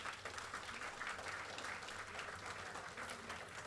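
Sustained applause from a college audience at a Tamil classical music festival event, dense steady clapping throughout with no break, moderately loud and even.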